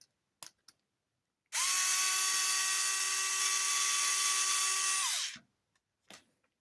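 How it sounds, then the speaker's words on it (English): Power drill or driver backing a screw out of the front differential of a Rlaarlo X12s 3s RC buggy, a steady high whine for about four seconds that winds down, with a few small clicks before and after and no talking. "I'm going to take out that screw there."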